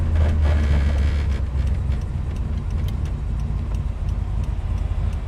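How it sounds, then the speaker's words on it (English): A 1970 Chevrolet Chevelle SS idles with a deep, low rumble, loudest at the start and then settling into a steady, smooth drone heard up close with no talk. "Oh, real nice smooth idle."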